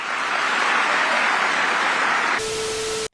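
Broad, loud clapping from an audience runs for a couple of seconds, then cuts abruptly to a hiss with a steady electronic tone before a brief drop to silence.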